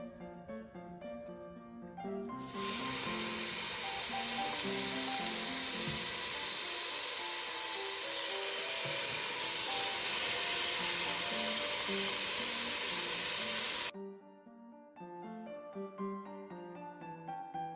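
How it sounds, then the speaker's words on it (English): Marinated bulgogi frying in a hot pan lets out a loud, steady sizzle that begins abruptly, holds for about eleven seconds over soft background music, then cuts off, leaving only the music. "time for the Symphony of Sizzle."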